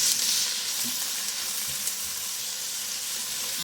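Onions frying in a pan for French onion soup, giving off a loud, continuous hiss of sizzle with a few faint stirring bumps, cutting off abruptly at the end.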